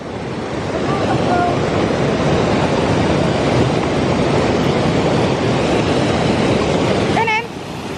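A waterfall at a nature reserve roars in a dense, continuous wash of falling water, loud and near, with a brief high voice cutting in near the end.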